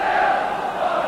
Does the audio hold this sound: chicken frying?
no